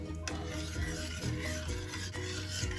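Gulaman jelly salad ingredients stirred in a bowl for a Milo jelly salad, giving a steady scraping, rubbing churn with repeated strokes and faint clinks, close and continuous, with no voices.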